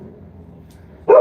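A dog gives one loud, sudden bark at the end after a stretch of quiet low room hum, close by and alone with no talk over it.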